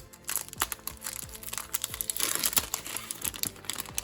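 Continuous crinkling and rustling of plastic bags, close by, with irregular crackles and soft thumps throughout.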